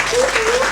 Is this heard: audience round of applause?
yes